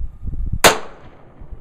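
A single sharp pistol shot rings out during live fire on a range, a loud close crack followed by a decaying tail, with low rumbling handling noise before it.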